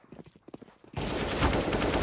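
Rapid automatic gunfire in a CS:GO match, a dense loud burst kicking in about a second in after quieter scattered shots and footsteps, continuing steadily to the end.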